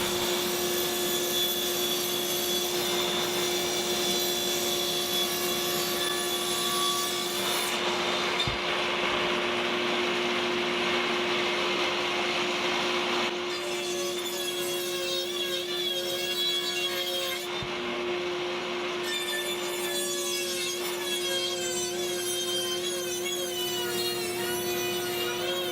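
Table saw or circular saw with its blade tilted, cutting a bevel along the edge of a raised wooden panel for an exterior door; a steady, loud whining machine drone runs continuously throughout, with shifting pitch as the blade bites into the wood.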